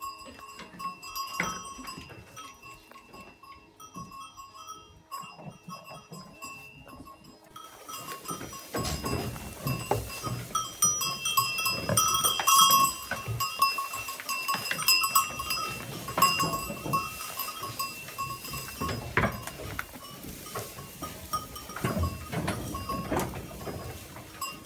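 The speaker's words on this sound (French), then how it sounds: "me voilà arrivé, j'ai donné du foin aux chèvres." Goats fed hay on a farm, with scattered bleats, rustling and clanking over about twenty-five seconds, quiet at first then busier and louder, with no speech.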